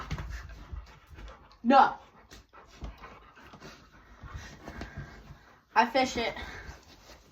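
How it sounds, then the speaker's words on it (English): A small dog at a lakeside fishing spot pants and gives short whimpers close by, with two louder yelps, while someone talks over it. "Dogs! See? This is my little buddy."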